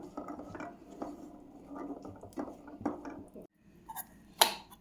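Cooked peas being mashed in a separate vessel: faint, close scraping and light tapping of a utensil against the container, with a few sharper clinks near the end.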